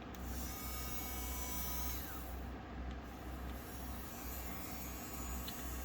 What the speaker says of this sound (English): And then I'm just going to drill a hole in the top.